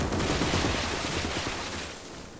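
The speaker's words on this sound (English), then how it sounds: "Massive mortar strike." Mortar strike explosions in the Gates of Hell strategy game, a dense, continuous roar of overlapping blasts and crackling fire that holds loud for about two seconds, then eases slightly.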